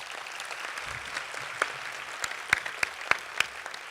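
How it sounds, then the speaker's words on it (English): Guests at a YWCA Women of Achievement luncheon applaud, a sustained wash of clapping from a sizable room with a few sharp, close claps standing out near the end. "So let's give that a round of applause."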